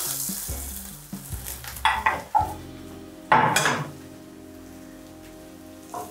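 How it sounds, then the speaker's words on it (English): Sausages and vegetables are stir fried in a pan, giving a loud crackling sizzle with sharp bursts and metallic scrapes as the food is tossed, then easing into a quieter fry over soft background music. "You just stir fry this for another 2 minutes."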